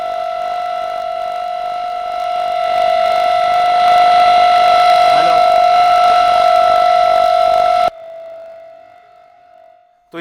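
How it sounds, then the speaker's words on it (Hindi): A loud, steady air raid siren in Delhi wails on a sustained tone, swelling in volume before cutting off abruptly and fading away. "ये सुनिए किस तरह की आवाज निकली जब दिल्ली में बजा सायरन करीब 3 बजे के आसपास।"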